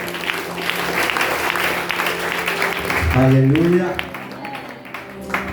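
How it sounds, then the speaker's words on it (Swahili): A church congregation at a praise service gives a round of hearty applause. Dense, close clapping fills the first three seconds, then thins as a voice calls out over scattered claps. "Basi tupigie makofi mazuri."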